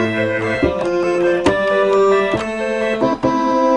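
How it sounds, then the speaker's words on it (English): Waldorf Blofeld synthesizer playing two stacked sine waves with an organ-like, tone-wheel character, sustained chords changing every half second or so, loud and steady with no talk. "That sounds like a little tone wheel organ or something of that nature."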